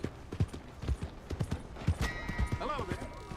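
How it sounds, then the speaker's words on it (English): Horse hooves clip-clopping in Red Dead Redemption 2, a steady run of close, hollow footfalls under a voice, with a whinny-like rising tone near the end. "My horse! Am I glad to see you?"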